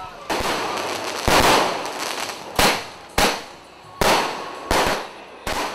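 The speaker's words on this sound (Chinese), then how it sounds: "烟火一燃起，大会烤正式开始了。" Fireworks set off to open a Mid-Autumn Festival community barbecue in Sanxia, New Taipei: a loud series of sharp firecracker bangs, about seven bursts at irregular intervals, each with a crackling tail over outdoor crowd noise.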